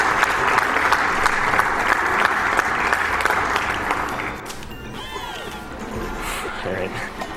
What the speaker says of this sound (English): that deserves an applause right there